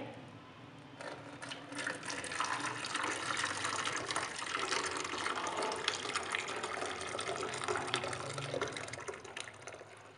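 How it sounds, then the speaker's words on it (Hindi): Boiled Kashmiri pink tea is poured through a strainer, making a continuous soft trickling and splashing of liquid that runs steadily for about ten seconds, fairly quiet and close, with no speech over it. "अब इसे छान लेंगे"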